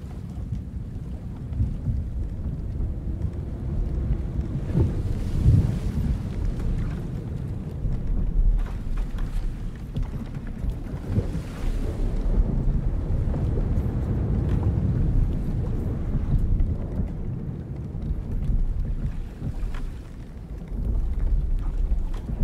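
A snowstorm roars in a PS1 horror game: a continuous, heavy, low rumble of wind that swells and eases in slow waves and never lets up.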